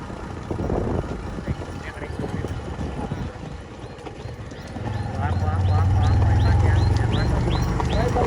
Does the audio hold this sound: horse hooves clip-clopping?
yes